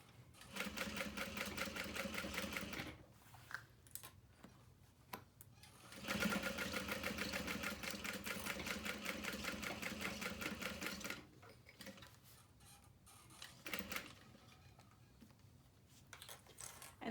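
A sewing machine stitching darts on a bag pocket runs in long, steady bursts at a quiet level, with short pauses between runs and no talking.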